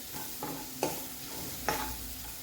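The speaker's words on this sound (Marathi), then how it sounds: "आपण हे हलवून घेणार आहोत." Three quick scraping stirs of garlic spinach curry (lasooni palak) in a pan over a soft, steady sizzle, each stroke a brief swish close by.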